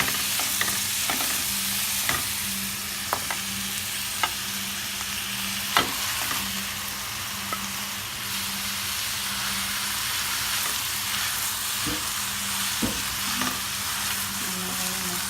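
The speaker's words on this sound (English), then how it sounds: "And then we're going to stir until the meat is almost fully cooked." Minced meat frying in a large pan for Egyptian pasta with béchamel, with a steady sizzle while a utensil stirs, scraping and tapping the pan at irregular intervals.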